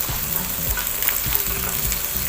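Food sizzles and spits steadily while frying in a pan, with intermittent scraping of a utensil against the pan as it sticks, at a close, even level with no talking.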